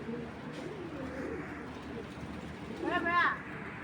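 Giribaj pigeons, a paired male and female among a collection of flying breeds, give a brief cooing burst near the end while someone talks steadily over them throughout.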